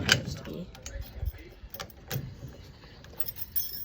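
An Andersen rapid drop hitch is slid down on a vehicle's receiver, giving a few metallic clinks and rattles with low clunks, close by, among faint handling noise.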